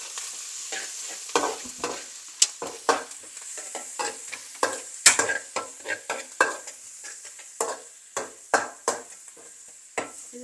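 Carrot and ginger-garlic paste frying in a pan for egg fried rice, with a steady sizzle broken by repeated sharp spatula scrapes and taps as the mixture is stirred, close and fairly loud, no talk.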